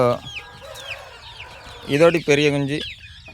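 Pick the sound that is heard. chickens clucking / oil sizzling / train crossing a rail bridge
chickens clucking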